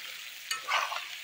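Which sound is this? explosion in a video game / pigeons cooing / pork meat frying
pork meat frying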